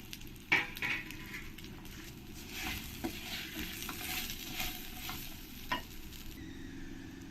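Ginger and panch phoron frying for Bengali-style khichdi, a quiet sizzle under repeated spatula scrapes and clinks against the pot, with one sharper knock near the start.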